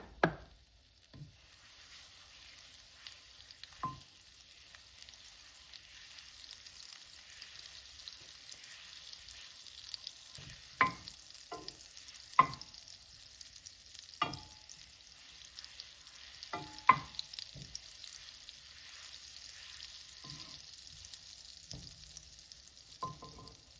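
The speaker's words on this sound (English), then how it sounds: "I'm going with a little olive oil. I'm also going to add a piece of butter" Butter and olive oil sizzle in a pan for Jamaican-style saltfish seasoned rice, a steady soft hiss broken by scattered clicks and utensil taps, fairly quiet and without any talking.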